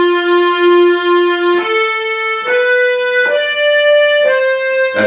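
An accordion plays the basic tune as a slow melody of sustained reedy notes stepping upward one after another, loud and close, with no voices.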